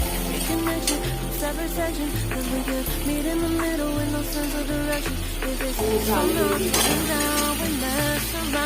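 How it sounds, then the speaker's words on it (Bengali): Spice paste of ginger, onion, garlic, cumin, and dried and green chillies sautéing for chicken curry, a dense continuous sizzle with utensils scraping and tapping the pot, close and loud. "মিক্সিং মশলাটা করে রেখেছিলাম, আদা, পেঁয়াজ, রসুন, জিরে, শুকনো লঙ্কা, কাঁচা লঙ্কা, সেটা দিয়ে কষাবো"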